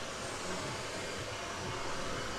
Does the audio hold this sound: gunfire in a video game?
no